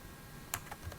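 A few faint, quick keystrokes tap on a computer keyboard during spreadsheet entry, brief and quiet against a low background hum.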